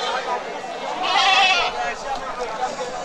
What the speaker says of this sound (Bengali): দেখেন কত ছাগল।